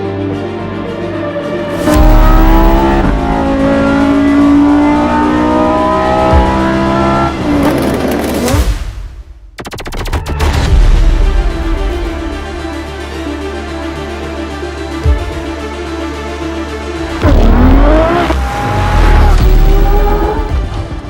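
A Lamborghini Huracan Tecnica supercar engine roars loudly through revving pulls and gear changes, with a brief drop to near silence midway before the engine surges again, tire noise and squeal mixed in.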